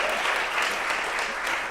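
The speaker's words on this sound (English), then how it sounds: "That will get the best cheer of this panel" A brief, dense burst of audience applause at a panel discussion, loud and steady across under two seconds with no voices on top.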